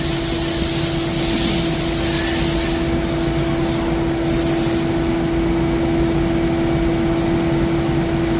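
A 2015 Doosan Lynx 220LYC CNC lathe runs a deburring pass on a part, producing a loud, steady mechanical whir with a constant tone and a hissing wash over it, continuous and close with no talk.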